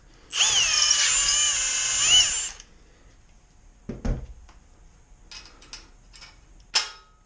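A loud, steady high-pitched whine of a power drill drilling through metal on a bicycle build for about two seconds, then clunks, clicks and metallic rattles nearby.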